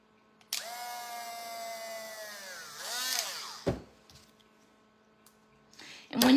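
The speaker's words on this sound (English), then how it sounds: "I always drill top and bottom." A power drill whines up and spins for a few seconds drilling wood for a sugar glider toy, then stops, followed by a few clunks and a short second burst of drilling.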